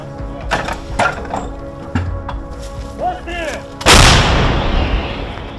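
M777 towed howitzer fired in a combat setting, a sudden loud boom with a long rumbling tail, preceded by several sharp clanks and mechanical knocks from handling the gun.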